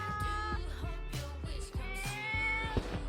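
A cat on a path on Ssukseom island in Goheung, South Jeonnam, gives short repeated meows close by, over an outdoor background of low steady noise.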